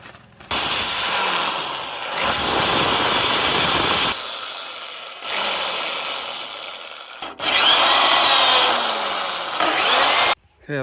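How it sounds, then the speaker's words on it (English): Power drill with an abrasive attachment grinding rust off a car body, a loud continuous rasping whine in long bursts of about two to three seconds separated by short pauses, close to the microphone. "I've done what I can with the drill"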